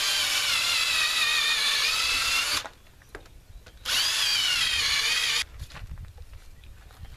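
A power drill bores holes into a freshly cut wooden log for shiitake mushroom growing, two long loud whining runs separated by a short pause with scraping and handling sounds.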